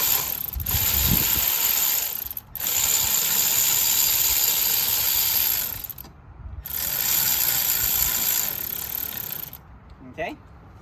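Ratchet tightening a bolt on a Honda Civic front strut assembly, long rapid clicking runs near the mic separated by short pauses, followed by a brief voice at the end.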